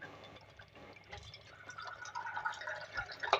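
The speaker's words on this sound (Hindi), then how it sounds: "इससे कुक करने से पहले इसके अंदर थोड़ा सा पानी वाटर ऐड करेंगे हम" Water is poured into a handi holding cooked potatoes and beef keema, a faint soft splashing trickle that builds gradually with a few small drips near the end.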